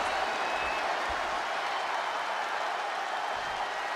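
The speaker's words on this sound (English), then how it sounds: "The sound of this crowd is deafening" A wrestling arena crowd in the WWE 2K23 game roars and applauds in a dense, steady wash of cheering that holds at a constant level throughout, with a faint voice low in the mix.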